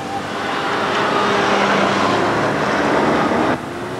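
A turbocharged rear-wheel-drive kei car engine revs hard and steadily at close range, a sustained high-pitched drone that holds for several seconds before dropping off abruptly near the end.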